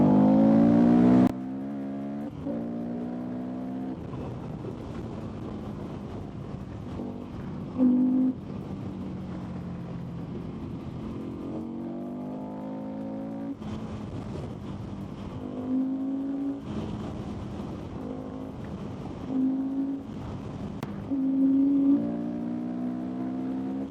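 Victory Octane motorcycle with a 104-horsepower engine accelerating hard while being ridden, its engine note climbing through repeated gear pulls and rising revs, loud and close throughout with brief pauses between shifts.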